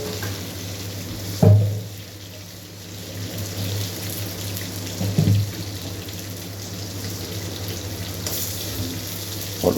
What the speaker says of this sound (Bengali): পটলটা ভালো করে ভেজে নেওয়া হচ্ছে।